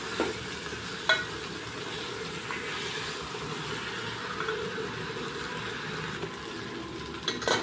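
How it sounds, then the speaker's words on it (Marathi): Soft, continuous sizzling of rice roasting in hot oil tempering, with occasional scraping and clinking as it is stirred in the pan. "ते तांदूळ छान फोडणीमध्ये एकदम भाजून घेतल्यासारखं करायचं"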